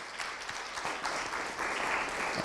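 Audience applause at a company presentation, a steady wash of many hands clapping that holds throughout and swells slightly toward the end, with no talk over it.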